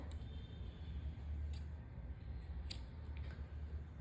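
Scissors snip the yarn after a crochet bag's finishing row. A couple of short, quiet, close cuts stand out over soft handling noise and a low rumble, with no speech.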